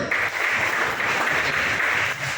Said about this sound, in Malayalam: നല്ല ക്ലാപ്പ് കൊടുത്തേ